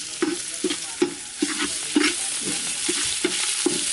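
Ginger and garlic fry in oil in a pot over a village wood fire for pulav, with a spoon scraping and stirring in regular strokes over a continuous close sizzle.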